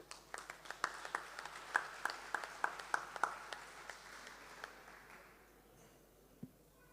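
At a Workers Day community meeting, a small audience claps in a fairly steady, distinct rhythm of individual hand claps, fairly faint and distant, then trailing off into quiet.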